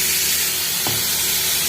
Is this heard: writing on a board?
no